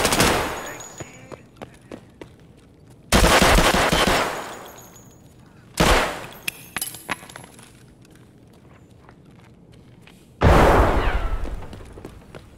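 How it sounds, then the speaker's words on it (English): Gunfire and grenade blasts in the game Escape from Tarkov: three loud bursts, each with a long rumbling tail, spaced a few seconds apart, with scattered single shots and clinks between them. "Stop shooting each other, damn it!"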